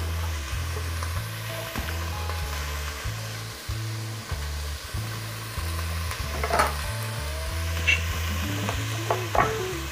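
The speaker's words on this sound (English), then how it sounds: "So what we're gonna do is essentially saute this up." Vegetables sautéing in a pot for veggie stock, a steady sizzle with a spoon stirring and scraping at a regular rhythm, close and moderately loud, then a few sharper clinks near the end.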